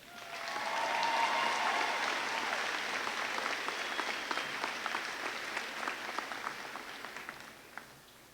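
Sustained applause from a high school graduation crowd, a dense wash of clapping that swells early, then gradually thins with scattered individual claps near the end, heard from a moderate distance.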